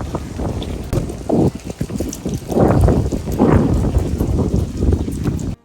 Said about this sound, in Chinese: 又起大风了，这风刮的让人上火呀